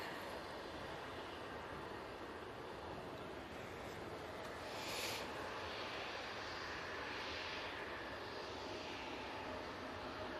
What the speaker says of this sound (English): I'm sure you saw the Logan Air ERJ 145 lining up.